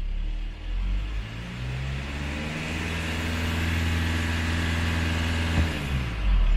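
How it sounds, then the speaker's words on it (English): A car engine revved while live OBD2 data is being monitored: a steady, fairly loud engine drone with low harmonic bands that rises gradually, heard alone with no talk. "If I rev the car, you can see that it increases."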